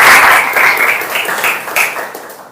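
Applause from an audience at an Indonesian teacher training session, a steady burst of clapping that starts loud and tapers off over a couple of seconds.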